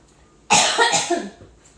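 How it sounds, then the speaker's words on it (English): A single harsh cough from a person recovering from Omicron bursts out close by, followed by a shorter rasping exhale, then quiet. "If you hear me cough, it's because I'm getting over Omicron."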